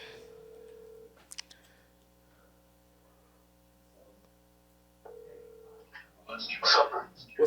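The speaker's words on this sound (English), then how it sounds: "He need his assistant to answer that phone right now." A telephone ringing during a podcast interview, one steady ring tone at the start and another around the five-second mark, separated by near silence, with voices talking briefly near the end.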